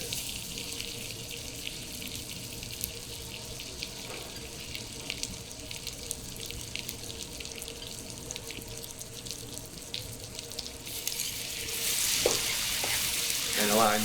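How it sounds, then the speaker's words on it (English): Banana cooking in a pan with butter and brown sugar at a tableside demonstration, a soft steady sizzle that swells into louder bubbling frying near the end, with no talking over it. "allowing the banana to cook in the butter and brown sugar mixture"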